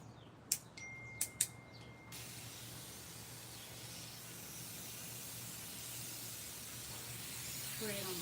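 Water sprays from a garden hose outdoors in a steady, broad hiss. A few sharp clicks come near the start, birds chirp faintly in the background, and the hiss grows slightly louder toward the end.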